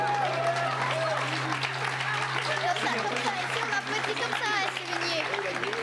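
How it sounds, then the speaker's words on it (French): A school audience applauding performers at a closing concert, continuous clapping mixed with crowd noise and overlapping voices, with a steady low hum running underneath throughout. "On les applaudit très, très, très, très, très, très fort, s'il vous plaît."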